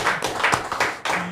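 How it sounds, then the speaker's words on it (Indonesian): A small studio audience at a talk show claps in a brief, uneven round of hand claps with distinct individual slaps, close and moderately loud. "tepuk tangan dulu kita semua dulu nih"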